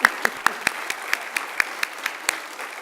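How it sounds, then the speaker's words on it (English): A round of applause at a transfer center celebration comes through as a thin run of evenly spaced, distinct claps from a small audience, steady and moderately loud for about three seconds. "Could you give her a round of applause?"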